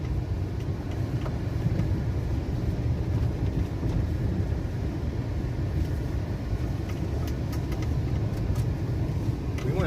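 A lifted Honda Element on 31-inch tires crawls up a rough mountain road in first gear, giving a steady low engine drone and road rumble throughout, fairly quiet and even, with no clear speech.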